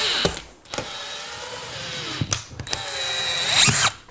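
A cordless power drill drives screws through drywall into a stud, with a few short bursts of whirring followed by a longer steady spin that ends in a higher-pitched whine, close and without talk.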